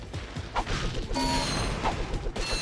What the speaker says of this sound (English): let's just break down all the boxes as like normal